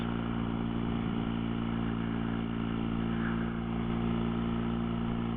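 An old motorcycle's engine drones steadily at 70 mph on a dual carriageway, loud and close, with constant wind roar and a smooth, unchanging hum.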